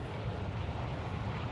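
An airplane passes overhead in a military shooter video game, a steady broadband engine drone that stays loud and even throughout.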